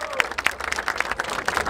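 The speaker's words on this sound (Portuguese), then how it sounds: "Palmas pra essa batalha, família." Crowd at a Brazilian freestyle rap battle applauding and cheering in a loose, uneven burst of claps, with voices shouting over it.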